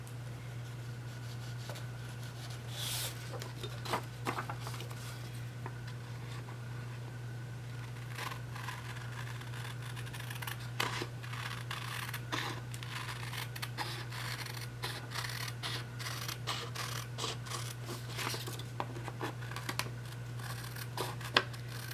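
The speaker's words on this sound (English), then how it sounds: "right now I'm just trying to cut this paper down to the right" Scissors cut paper for a journal with a steady series of crisp, close snips and scraping clicks, irregularly spaced over a constant low electrical hum, with no talking.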